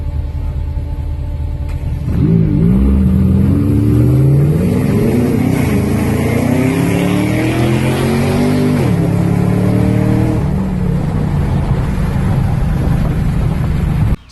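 A Camaro ZL1 accelerates hard while racing a McLaren 570S on a rough road, its engine climbing in pitch through several gear changes, loud and close with a steady rumble and no talking.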